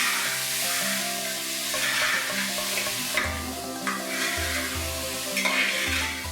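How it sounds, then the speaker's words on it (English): Finely chopped onions with cumin seeds are sautéed in a pan, a steady close-up sizzle broken by repeated stirring scrapes and soft clinks, with no one speaking. "We have to saute these onions till they are beautiful,"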